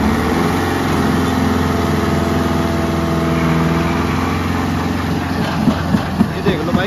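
A Kubota 50 HP tractor runs a rotavator through heavy soil in a field, its engine a loud, steady drone with a constant low rumble throughout, with a few knocks near the end.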